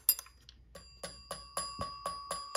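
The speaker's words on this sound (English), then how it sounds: "So you can see that it is a 1981 bell." Bell of a 1981 Standard Electric TLF 300 telephone struck by its clapper, giving a series of about eight sharp metallic dings with ringing overtones, evenly spaced and close up, with no talk.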